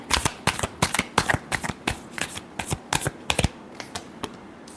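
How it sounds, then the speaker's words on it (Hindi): Tarot cards shuffled by hand in rapid, crisp riffling bursts, close and fairly loud, repeating in quick clusters with brief gaps and no talk. "last shuffle"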